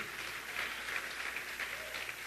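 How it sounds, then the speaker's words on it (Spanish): Faint, continuous applause from a church congregation giving praise, a soft even wash of clapping heard at a distance. "Dale un fuerte aplauso al Rey"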